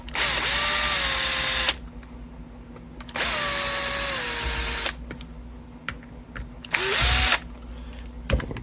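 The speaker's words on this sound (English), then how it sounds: "All right, we can go back to the power tool." A power drill backs screws out of a vintage late-1970s left-handed Gibson Les Paul guitar, whining in three separate bursts that rise and settle, with quiet handling clicks between them.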